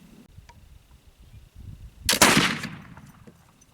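A single sharp black powder muzzleloader rifle shot at a range, a sudden loud crack at mid-clip with a smoky, decaying tail after quiet outdoor ambience.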